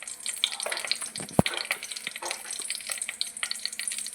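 Cumin seeds crackle and sizzle in hot coconut oil for a tempering, a steady close frying hiss with small pops and one sharp knock near the middle.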